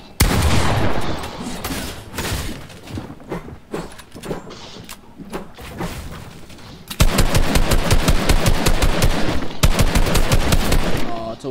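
Rapid gunfire from a video game box fight: scattered bursts of shots early on, then a dense, loud automatic volley in the second half.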